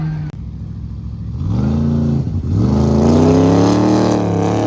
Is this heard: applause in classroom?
no